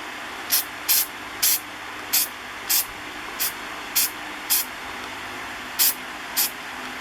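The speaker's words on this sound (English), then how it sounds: "Just put a light film of this silicone lubricant in there." Silicone lubricant sprayed into a casting mold in short bursts, about ten quick hissing puffs of spray can sound spaced unevenly across the moment, close up and clear over a quiet background with no talking.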